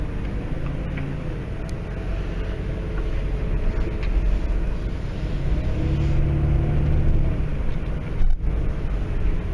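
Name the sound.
car driving along Archer Avenue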